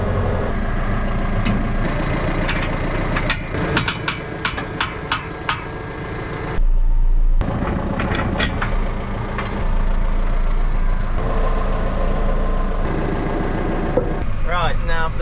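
A lorry towing a trailer on a dolly rumbles steadily up close, with repeated sharp clicks and clanks and brief hissing bursts over the low engine drone, and some talk mixed in.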